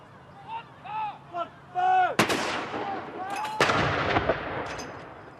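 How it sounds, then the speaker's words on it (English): Royal Artillery reservists of 105 Regiment fire a gun salute at Hillsborough Castle, Northern Ireland, two loud booming blasts with rolling echo, birds chirping before and between them. "the soldiers firing here are reservists from 105 Regiment Royal Artillery"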